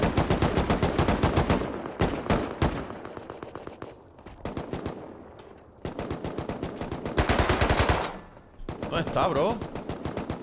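Rapid automatic gunfire in the survival game Rust bursts out in repeated volleys during a base defense against a raid, loud and close, with a player briefly talking between the shots.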